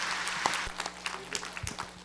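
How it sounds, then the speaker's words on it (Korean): A church congregation applauds welcomed visitors, a short round of moderate clapping in a reverberant hall with a low background hum, a few louder claps punctuating the spread. "박수로 한번 축하하겠습니다"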